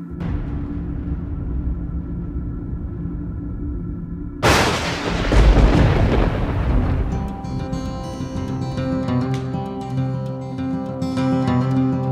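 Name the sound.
thunder from a thunderstorm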